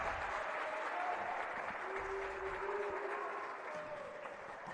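A home crowd at a boys volleyball match applauds and cheers in a continuous, even wash of noise heard at a distance, with faint voices running underneath.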